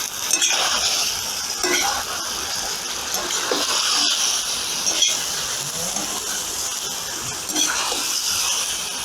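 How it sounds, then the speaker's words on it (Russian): Carrots and other pilaf ingredients being stirred in a kazan, a steady frying hiss with periodic scraping and clattering strokes of the spoon, close and continuous. "Теперь можно перемешать все."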